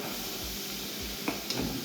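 Soft continuous sizzling of gram flour frying in hot oil, with light stirring scrapes and a couple of small clinks.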